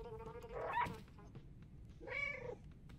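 Two clear cat meows from the video game Stray, each a drawn-out tonal cry, the second a moment after the first, close and fairly soft against a quiet background.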